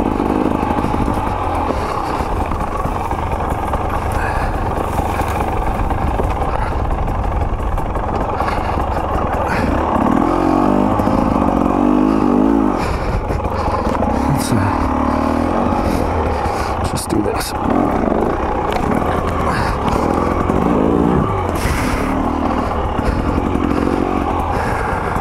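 A KTM 300 XC-W two-stroke dirt bike engine runs loud and close throughout, idling with occasional revs amid clattering, and a voice comes through at times.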